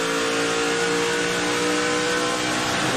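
An ARCA race car engine runs hard against its rev limiter, a sustained, loud, buzzing drone with no break, as heard from on board.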